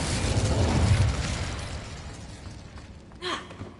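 Incendio fire spell in the Hogwarts Legacy video game, a loud whooshing fiery blast that roars and then tapers off, followed by a brief breathy vocal sound near the end.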